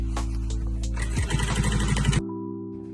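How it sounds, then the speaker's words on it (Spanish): A sewing machine runs a half-centimetre topstitch seam on denim jeans, a fast, even mechanical rattle of stitches that builds for about a second and then stops abruptly, leaving a quiet background hum. "vamos a hacerlo en una costura de medio centímetro de bespunte para que quede más estable"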